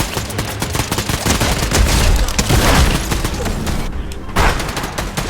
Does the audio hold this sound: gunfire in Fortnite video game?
yes